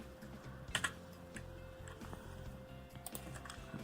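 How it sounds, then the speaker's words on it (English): Soft, quick keystrokes of code being typed on a computer keyboard during a Raspberry Pi data logger project, a short cluster of clicks over low background hum. "Type in the code."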